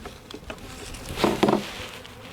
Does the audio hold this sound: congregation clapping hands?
no